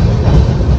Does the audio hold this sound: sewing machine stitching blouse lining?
no